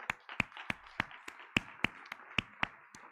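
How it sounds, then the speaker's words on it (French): A small church congregation claps for the worship team, a sparse string of about a dozen distinct hand claps at a steady, fairly quick pace, close by and fairly quiet. "Merci à l'équipe de louange, on peut les applaudir."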